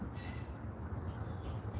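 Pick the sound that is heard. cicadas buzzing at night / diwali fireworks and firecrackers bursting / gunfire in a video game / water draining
cicadas buzzing at night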